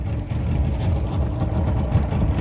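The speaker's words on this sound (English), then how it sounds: "A couple boats in the water." Boats out on the Sundays River, a low distant motor rumble and churning water noise filling the background steadily with no voices.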